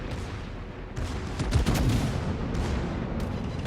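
Warship guns firing in the World of Warships naval battle game, a continuous rumbling barrage with overlapping booms and crackling volleys, fairly loud and dense, without talking.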